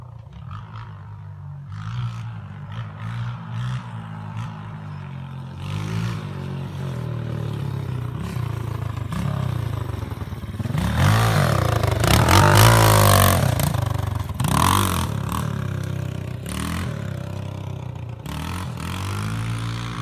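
A dirt bike ridden by a ten-year-old over small trail jumps, its engine droning and revving, swelling to a loud roar mid-way before easing back while still running.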